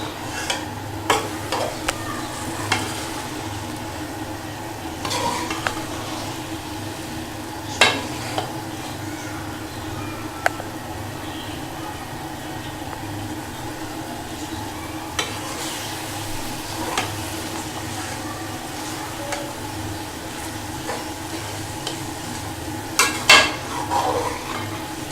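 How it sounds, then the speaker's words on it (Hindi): Moong dal being stirred in a pot over a full flame, a steady sizzle with scraping spoon strokes and occasional sharper clinks against the metal, continuous and close with no talking. "मूंग की दाल को अच्छी तरह मिक्स करेंगे और मिक्स करते हुए चूल्हे का फ्लेम फुल कर देंगे"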